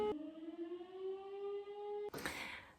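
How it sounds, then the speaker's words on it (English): A fire department's siren during a routine test alarm in Germany, loud and sustained, holds a steady wailing pitch for about two seconds before giving way to a broader, noisier rising blast. "Oh fuck, the siren is going"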